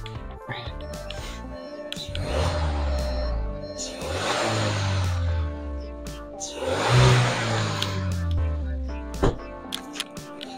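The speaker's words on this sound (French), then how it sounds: "je vais mettre un coup d'accélérateur" A car engine is revved with the accelerator during engine-management monitoring, swelling twice into rising, rough revs, each one dropping back to idle, heard close up.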